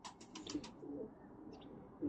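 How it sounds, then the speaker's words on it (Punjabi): Pure Mehar Asghar breed pigeon cooing softly nearby, a few low throaty coos among faint chirps in a quiet loft in Faisalabad. "ਇੱਕ ਪਿਓਰ ਮਹਿਰ ਅਸਗਰ ਵਾਲੇ ਕਬੂਤਰ ਦਾ ਸ਼ੌਂਕ ਕਰਵਾ ਰਿਹਾ"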